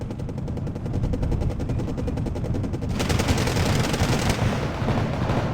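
Sustained rapid fire from several grenade launchers in the real-time strategy game Wargame: Red Dragon, a dense, continuous volley of close, loud bursts that grows brighter and harsher partway through, with no speech over it.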